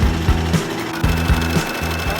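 A home sewing machine stitching fabric, its motor running in a steady rapid rhythm with short pauses and restarts, close and fairly loud with no voices.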